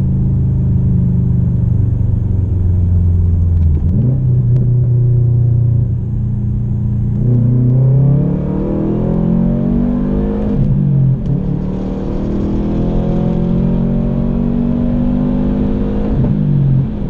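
A straight-piped 2013 Subaru WRX revs loud and close, its raw exhaust note climbing and falling through several pulls and downshifts with rising harmonic sweeps, alone without talk.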